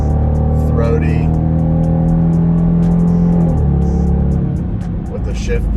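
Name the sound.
Dodge Durango R/T engine revving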